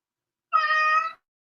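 A house cat crying at a closed door to be let out gives a single clear, close meow about half a second long, with silence before and after.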